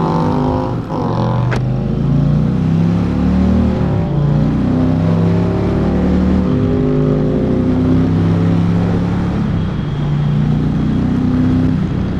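A powerful heavy motorcycle engine revs up and down loudly and close by, with rising and falling roars and no talking.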